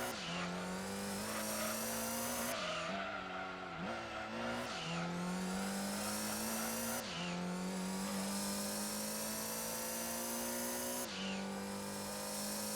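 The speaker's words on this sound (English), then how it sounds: "this car is actually satisfying to listen to as well." A race car engine roars continuously in Gran Turismo 2, its pitch climbing steadily and dropping sharply at each gear shift, loud and close with no talking.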